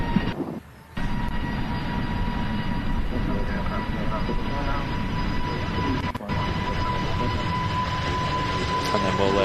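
A British Airways shuttle airliner rolls for takeoff on runway 23 left, a steady, broad jet-engine roar heard from a distance, continuous apart from a brief dip near the start.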